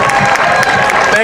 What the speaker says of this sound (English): Can I get another round of applause for the Seaholm a cappella group